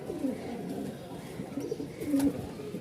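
Giribaj fancy pigeons at a Dhaka bird market in Mirpur-1 coo steadily in low, throaty murmurs, several birds overlapping close by with a louder burst of cooing near the end.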